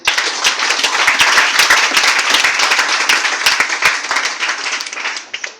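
A church congregation bursts into loud, sustained applause, a dense crowd of clapping hands that holds steady for several seconds before easing slightly.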